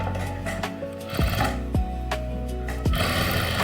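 A sewing machine stitches the sleeve seam of a blouse, with a constant mechanical hum and a few sharper knocks and clicks as the fabric is fed through. No speech.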